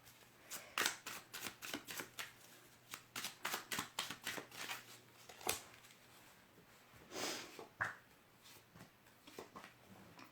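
Tarot cards shuffled by hand before a reading, giving a string of quick papery riffles and flicks that come in bursts, close and fairly quiet, with no voice over them.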